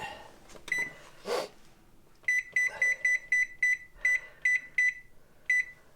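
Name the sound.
kitchen timer beeping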